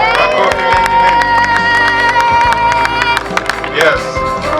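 An audience at a church mission gathering in Kigoma claps and cheers loudly in a continuous dense wash of applause and voices that fills the space.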